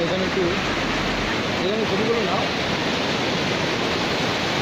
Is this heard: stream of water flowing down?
yes